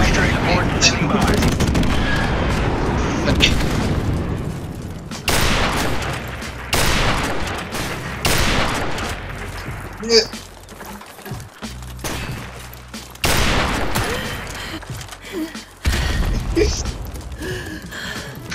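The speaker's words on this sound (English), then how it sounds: "Friendly airstrike on the way!" Gunfire and blasts from an airstrike in Call of Duty: Modern Warfare Remastered come as loud, repeated bursts broken by short pauses, with voices talking over parts of the action.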